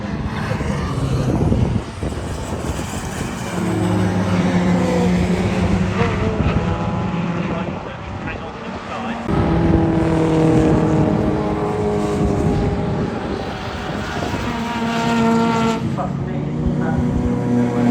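Race car engine in a racing video game, revving loud and continuous with clear gear changes where the pitch drops, under ongoing commentary voices.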